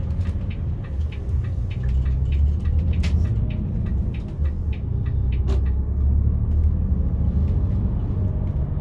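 A steady low engine rumble and road noise from inside a moving coach bus on a federal highway, continuous and loud, with scattered rattles and clicks and no talk.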